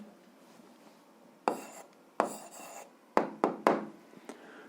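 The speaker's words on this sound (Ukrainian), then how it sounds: "записуємо відповідь, пишемо відповідь" A pen writes out an answer to an algebra exercise, with quiet scratchy strokes and several short taps spread unevenly over a few seconds, faint and close, with no voices.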